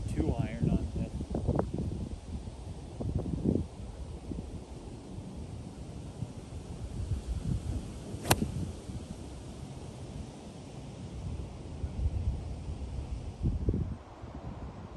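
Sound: wind blowing on a golf course

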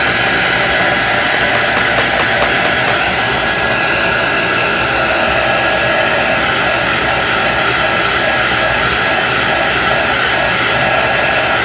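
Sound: heat tool for embossing drying chalk paste

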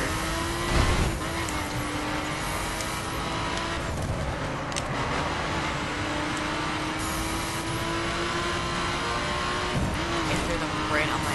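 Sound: racing cars in video game The Crew Wild Run

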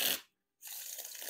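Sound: riffle shuffling Theory11 Gold Artisan playing cards

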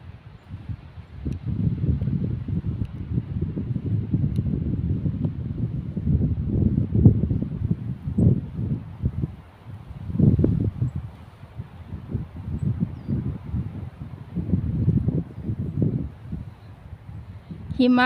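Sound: strong wind outdoors on a road

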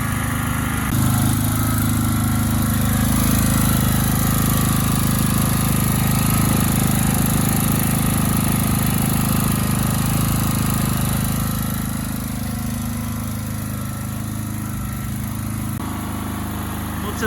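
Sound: Full GL 3500L generator engine running

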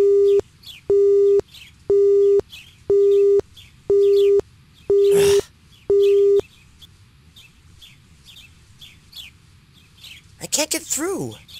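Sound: telephone busy signal, from Inuyasha video game

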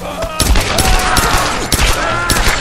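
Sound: gunfire in video game Tomb Raider

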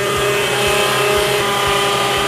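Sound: kitchen machine whipping cream at speed 2

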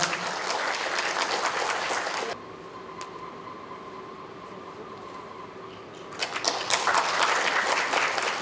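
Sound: audience applause

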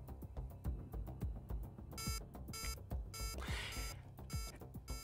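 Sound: torpedo beeping in the video game Avorion

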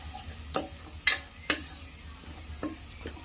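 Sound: frying spice mix with turmeric for stuffed brinjal curry

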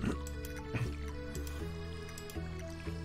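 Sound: watering crops in the video game Stardew Valley

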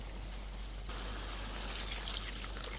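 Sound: water poured into pot of rice

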